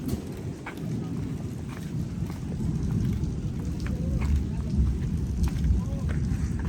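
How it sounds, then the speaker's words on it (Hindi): Steady rain patters and hisses all around a sheep farm, with scattered sharper drips ticking through the dense wash of sound. "बारिश हो रही है।"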